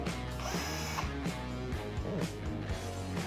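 A Makita 12V battery pack from the CLX224X cordless combo kit is pushed into a cordless tool until it locks, giving a few short, light mechanical clicks over steady background music.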